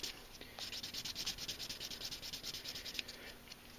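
A plastic Gunpla model skirt part is rubbed back and forth on sandpaper in quick, even strokes, a faint, close, rhythmic scratching with no talking.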